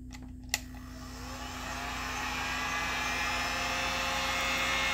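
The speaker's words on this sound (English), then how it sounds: "we're gonna go ahead and test the heat gun again" A heat gun runs off a portable power station, its fan and element building from a click into a loud, steady blowing roar that holds to the end.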